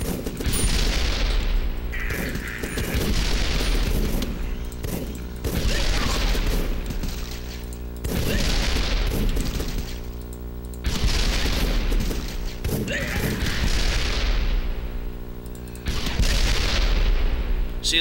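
Repeated RPG blasts in the video game The Last Stand 2: about six loud booming explosions with rumbling tails, spaced every few seconds over a continuous din of gunfire, with no talking.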